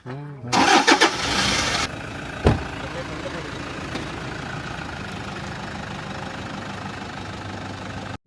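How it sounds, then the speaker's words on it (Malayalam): A car engine cranks and catches in a short loud burst, then settles into a steady idle with a sharp knock or thump shortly after, heard close up. "വണ്ടി ആദ്യമായിട്ട് സ്റ്റാർട്ട് ചെയ്തത് എൻ്റെ ബ്രദർ തന്നെയാണ്"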